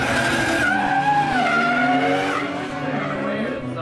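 Nissan Skyline R33 drifting on track at a Pro Am drifting round, with loud sustained tire squeal that bends in pitch over the engine drone, fading slightly toward the end; commentary is faintly audible.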